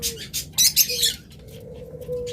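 Pet lovebirds or budgerigars kept for sale give a few short, bright chirps and squawks up close, followed by quieter sounds, while someone talks quietly in the background.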